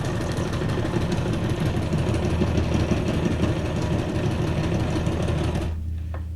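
A sewing machine runs steadily while stitching thread onto junk journal ephemera, a loud continuous mechanical whir with a fast rhythmic chatter that stops abruptly near the end.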